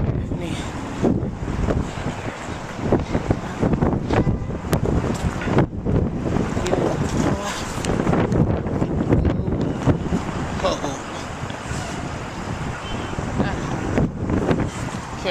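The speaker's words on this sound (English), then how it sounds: "very cold and windy here" Heavy, continuous buffeting of wind against a microphone, a roaring rumble throughout with bursts and gusts.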